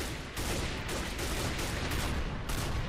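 Rapid blank-round gunfire crackles through a military roleplay video game, a dense, continuous fusillade of loud overlapping shots with no pauses.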